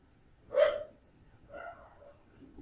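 Neighbours' dogs barking at night: one fairly loud bark followed by a softer, drawn-out yelp a second later, heard at a distance against a quiet room.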